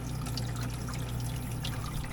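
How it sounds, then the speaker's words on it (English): Water trickles and pours steadily into the tray of a countertop ice maker, a continuous close splashing flow with no talking. "the water's going over the tray there"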